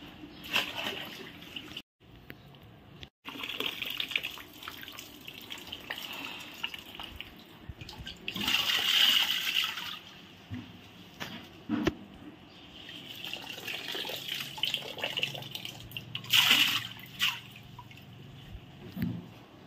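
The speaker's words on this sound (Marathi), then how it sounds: "चला इथं मी धुते गहू" Wheat grains are washed by hand in water, with intermittent sloshing, splashing and trickling, louder bursts separated by quieter stretches and brief near-silent gaps.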